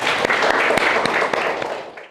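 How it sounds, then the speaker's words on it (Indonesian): A classroom group claps for a student: dense, energetic applause throughout, fading slightly at the end, with no speech over it. "Kita kasih tepuk tangan buat Anida."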